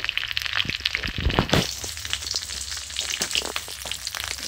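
Panch phoron spices with dried red chilli crackle and sizzle in hot oil, a dense run of sharp pops over a steady fry hiss, close and fairly loud with no talking.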